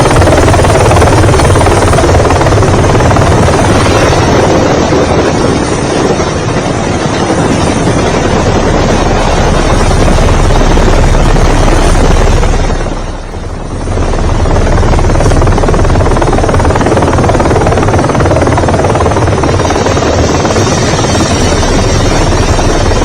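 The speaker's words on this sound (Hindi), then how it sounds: "हेलीकॉप्टर से भक्तों पर फूल बरसाए जा रहे थे।" A helicopter flies low over a crowd of devotees at the Magh Mela, dropping flower petals; its loud, steady rotor roar fills the whole stretch, dipping briefly midway before swelling back, with no talk.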